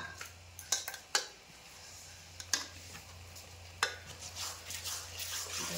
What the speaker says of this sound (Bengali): এবার পুরো মশলাটা ভালো করে কষাতে হবে।